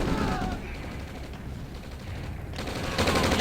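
Medium tanks trade fire in a battle in the real-time strategy game OpenRA, a dense rattle of overlapping gunshots and explosions under a commentator's talk.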